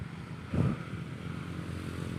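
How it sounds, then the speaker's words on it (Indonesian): Motorcycles pass along a road near a dry riverbed, one engine swelling briefly as it goes by, then fading into a faint, continuous traffic hum at a distance. "banyak motor lewat tuh."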